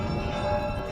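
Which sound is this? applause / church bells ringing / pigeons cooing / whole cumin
church bells ringing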